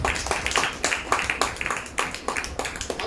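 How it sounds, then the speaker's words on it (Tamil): A church congregation claps hands in praise, with quick, fairly even rhythmic claps from many people close by, loud and steady throughout with no talk over them. "கைத்தட்டி ஆண்டவர் மகிழ்ச்சி."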